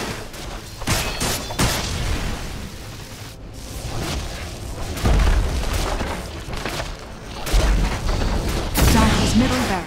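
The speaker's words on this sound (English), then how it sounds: "Dire's middle barracks has fallen." Rumbling booms and crackling blasts as a barracks is destroyed in the Dota 2 video game, building in several surges over busy combat sounds, with a voice speaking at moments.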